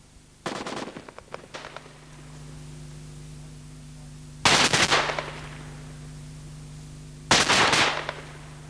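L86 Light Support Weapon firing 5.56 mm concentrated bursts into concrete and brick: three loud, close bursts of rapid automatic fire spaced a few seconds apart over a low steady hum.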